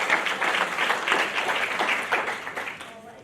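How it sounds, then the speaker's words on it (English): Audience applause for panelists at a policy discussion on book bans, a steady mid-sized round of clapping held at even loudness for the whole stretch. "let's clap for our panelists"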